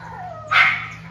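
A dog gives one sharp bark partway through, near and fairly loud, with a steady low hum in the background and no talking.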